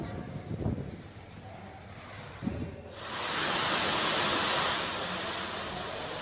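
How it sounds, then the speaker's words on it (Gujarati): Heavy rain pours down on Vavda village near Babra in Amreli, starting after a few seconds as a dense, steady hiss that stays loud to the end. "ધોધમાર વરસાદી માહોલ છવાઈ ગયો છે"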